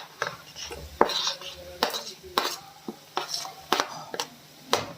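Green chili, garlic and ginger paste goes into a pan and gets stirred, with repeated sharp metallic scrapes and clinks of a utensil against the pan in an uneven rhythm, close and fairly loud, no talking.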